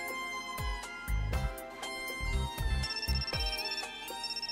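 A phone ringtone from the game Megadimension Neptunia VIIR plays a bright, repeating electronic melody of quick chimed notes over a pulsing beat, loud and clear with no talk.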